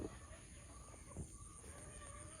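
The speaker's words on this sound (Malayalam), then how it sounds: "നല്ലതായിട്ട് ഇണങ്ങുന്ന ഒരു പക്ഷിയാണ് കോഴി." A chicken clucks faintly, with a couple of short clucks over quiet background hum and no talking.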